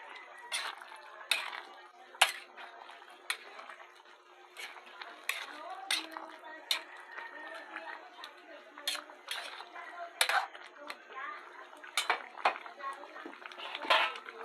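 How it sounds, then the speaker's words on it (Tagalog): A spoon stirs pineapple chicken in a metal pot, giving sharp irregular clinks and scrapes against the pot sides with soft wet sounds between, close and fairly quiet. "Saka po uli natin haluin para mag-mix po siya."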